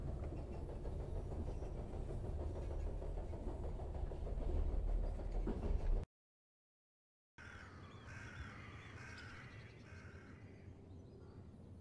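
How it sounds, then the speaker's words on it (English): Train in The Charnel House Trilogy video game slowing to a stop: a loud, steady rumble and rattle of the carriages lasting about six seconds, a brief silence, then a quieter rolling hiss with faint creaks, no talking. "The train's stopping."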